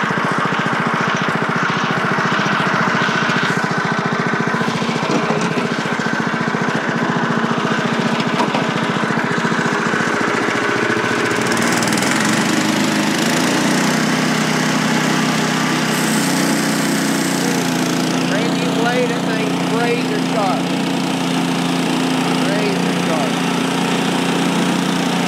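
A Frontier sawmill engine idles steadily as it warms up, a continuous mid-level drone that shifts slightly in tone partway through, with no talk.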